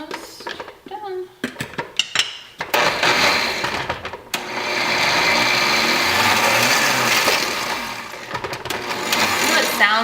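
A food processor grates cauliflower into rice with a loud, harsh whirring and clattering that runs in short pulses, then holds as a long steady grind, with a voice speaking over the early bursts.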